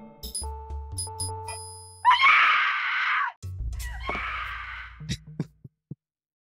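Screams in the video game Parasite Eve 2: two loud, harsh screams of about a second each, separated by a short gap, layered over game chimes and low rumbling tones, then a few sharp blips trailing off.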